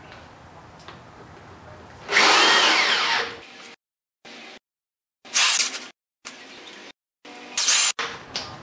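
A power drill drives screws to mount a hinge on a wooden pie toss build, in three loud whirring bursts of a second or so each, separated by pauses.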